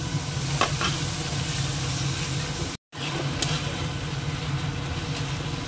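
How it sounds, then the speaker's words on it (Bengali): Spice paste with a little water stir-fried in a pan, a steady close sizzle with scraping stirring throughout, broken by a brief moment of silence midway. "দিয়ে মশলাটা এবার আবার একটু জল দিয়ে দিই, কষিয়ে নেবো"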